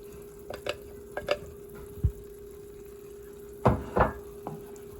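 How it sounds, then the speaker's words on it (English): Cajun oxtail gravy being stirred in a pot, heard as a few separate scraping and knocking strokes of a spatula close by over a faint steady hum, with no one talking. "Stir everything up. This is gonna make my gravy,"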